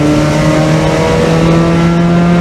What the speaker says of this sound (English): We have a little S-curve here, 30 miles an hour. Let's downshift into it.